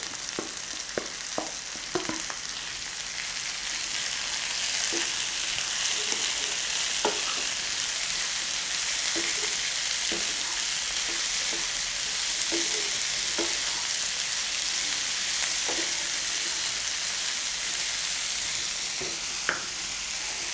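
Chopped capsicum and onion fry in a pan for a potato, capsicum and green peas curry. A loud, steady sizzle runs throughout, with occasional stirring scrapes.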